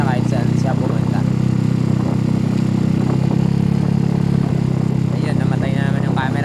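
A motorcycle with a rebuilt 196cc square engine (63 bore, 63 stroke) runs on a test drive, its engine droning loud and steady with mechanical clatter throughout.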